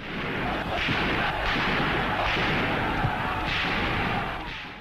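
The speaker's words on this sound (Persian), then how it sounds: "تیراندازی به سوی مردم" Rapid bursts of distant gunfire crackle and thud repeatedly over a dense, noisy background roar, as soldiers fire toward a crowd of people.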